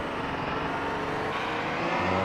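GT race cars speed down the back stretch of Circuit of the Americas in a sim-racing endurance game, a continuous loud engine drone at steady, topped-out speed with a slight shift in pitch near the end.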